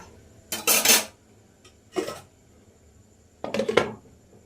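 Red lentil dal with raw onion and potato being stirred in a pot, then the lid put on: three separate bursts of metal scraping and clanking with quiet stretches between them, close and fairly loud.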